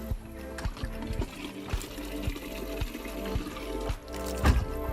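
More water poured into a container for Soylent at a backcountry camp, a continuous close trickle and splash with occasional low knocks, running for several seconds.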